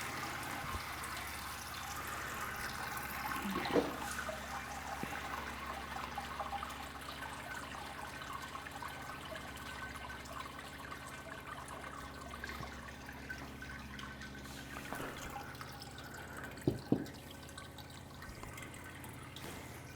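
Wort drains steadily from a lifted grain basket back into a Brewzilla homebrew system, a continuous trickling splash with a few soft clunks of equipment along the way.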